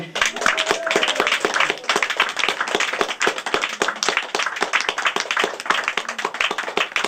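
An audience gives a team a round of strong, close clapping, with distinct hand claps falling in a brisk, fairly regular rhythm throughout.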